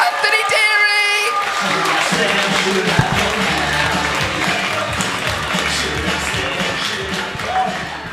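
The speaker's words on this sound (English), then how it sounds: "So we're going to start the applause and cheering." A live audience at a comedy club bursts into applause and cheering, with dense clapping and whoops that run steadily and loudly after a brief cue, slowly thinning toward the end.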